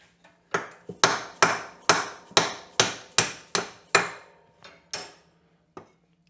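About a dozen sharp metallic hammer blows ring out at a steady pace, driving a part out of a Yamaha Big Bear ATV, close and loud, with the last few strikes softer and more spread out.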